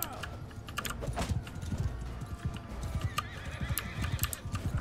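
Horse galloping with steady clip-clop hoofbeats and a neigh in the video game Mount & Blade II Bannerlord, with battle noise in the mix and keyboard clatter from the player, moderately loud throughout.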